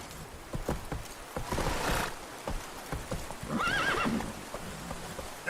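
Roach, the horse in The Witcher 3: Wild Hunt, gallops with quick rhythmic hoofbeats and lets out a clear whinny midway, heard up close over light ambient noise.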